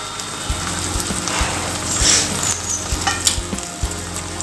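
Ground tomato paste frying with onion and ginger-garlic paste in a pan for egg curry, a steady rain-like sizzle with soft, evenly spaced low knocks underneath, close and fairly loud, no speech.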